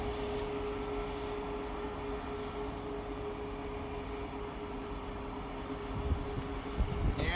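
A Boeing 757 jet arriving at LAX, a steady, moderately distant engine roar with a constant whine, rising into rougher rumbling toward the end.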